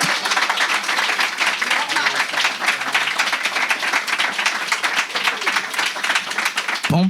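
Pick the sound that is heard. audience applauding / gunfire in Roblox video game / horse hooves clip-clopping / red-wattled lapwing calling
audience applauding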